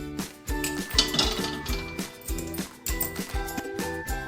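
Hot sesame and jaggery ladoo mixture scraped from a pan onto a ghee-greased plate, with repeated metallic clinks and scrapes of a spoon against steel coming in a steady rhythm, close and clear.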